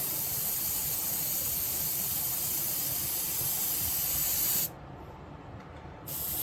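White spray paint hisses steadily and close up as a blue sky backdrop on a model railway layout is lightened. The spray cuts out briefly, then starts again.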